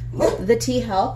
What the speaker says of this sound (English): Excuse the barking dogs.